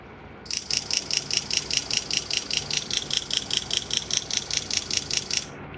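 Shutter clicks from a smartphone camera in continuous burst mode fire in a fast, even, rattling stream of about two dozen crisp ticks, close and fairly loud, then stop abruptly. No one speaks.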